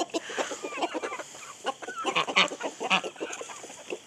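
Several chickens in a pen cluck busily at close range, a continuous chatter of short overlapping clucks that grows louder and denser in the middle, heard alone without voices.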